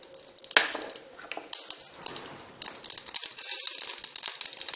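Mustard seeds and urad dal spluttering in hot oil in a pan, a busy crackle of sharp pops and sizzling bursts close by, irregular and fairly quiet, with no talk.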